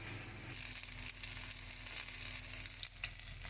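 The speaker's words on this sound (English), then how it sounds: "we're going to pan roast these in this pan" Pork pan roasting on a stove, sizzling loudly and steadily in the pan with crackling and popping, close up and continuous, with no talking.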